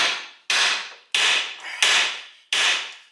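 A 3-pound hammer strikes metal during the front end teardown of a 1968 GTO A-body car, five loud, close, sharp blows spaced roughly half a second apart, each ringing out and fading before the next, with no talk.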